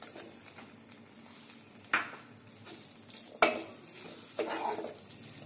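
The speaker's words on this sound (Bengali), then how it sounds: "ভালো করে মিক্স করে নেবো।" Chicken pieces stirred into a cooked-down spice masala in a pan, with soft continuous sizzling and several sharp scrapes and clinks of a spoon against the pot, fairly close and with no talking.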